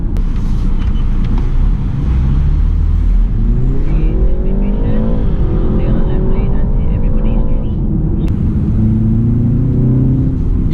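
A 2019 BMW 330i M Sport G20 engine drones from inside the cabin while driving, rising in pitch as it revs up through the middle, then settling back over steady road rumble.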